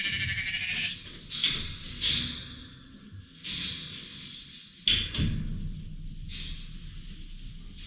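Ewes in a barn during lambing bleat repeatedly, with several overlapping cries spread across the whole stretch. The calls sound fairly close, and no one speaks.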